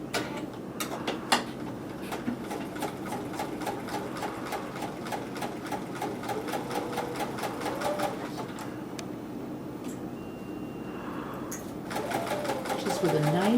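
A Bernina sewing machine runs a straight stitch while piecing a flower pillow, its fast, steady needle clatter continuous and close, with a brief pause and pitch change near the end.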